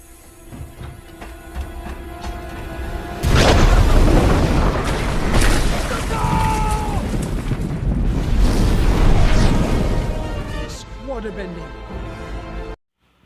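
Leaked gas ignites aboard Zuko's ship in the Avatar: The Last Airbender animation: a sudden heavy blast, then a sustained loud roaring rumble for about nine seconds before cutting off abruptly.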